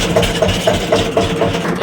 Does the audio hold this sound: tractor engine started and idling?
yes